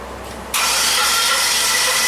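A Pontiac Bonneville engine cranks over, with a sudden loud, steady rushing whir that starts about half a second in and holds evenly to the end, close by and alone.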